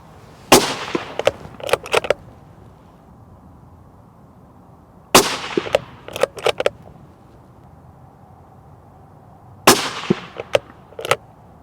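Three sharp rifle shots, each with a cracking report and a short echoing tail, spaced several seconds apart with quiet between them, fired with 53 grain Hornady VMAX Superformance ammunition.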